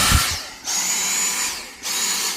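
A battery-powered blower runs at max power outdoors by a reservoir, a loud, high whirring roar close by that dips briefly twice and surges back.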